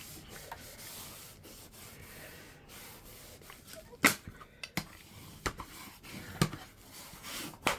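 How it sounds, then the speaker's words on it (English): A tool burnishing glued paper on a scrapbook page gives close, soft, intermittent rubbing strokes with several sharper scraping bursts, heard alone without speech. "I like to burnish all that glue out."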